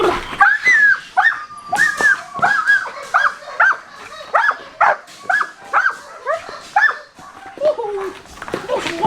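A dog in bite-work training clamps onto a level 3 bite wedge, making repeated close, strained whines and throaty growling grunts in quick bursts.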